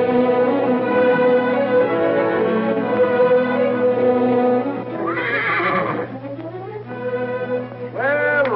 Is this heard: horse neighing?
yes